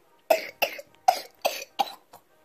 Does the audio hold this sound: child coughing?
yes